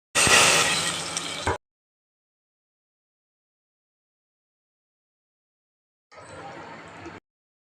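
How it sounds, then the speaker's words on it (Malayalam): Mustard seeds crackle and pop in hot oil alongside dried red chillies while tempering for a mutton curry, heard as two short, close bursts of sharp spluttering separated by silence. "കടുക് പൊട്ടി വരുന്നുണ്ട്."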